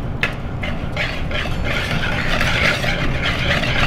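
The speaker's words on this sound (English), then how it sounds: "I'm gonna use a whisk to whisk this together." A whisk scrapes and taps rhythmically through room-temperature butter, sugar, vanilla and salt in a bowl, with quick, repeated strokes close by.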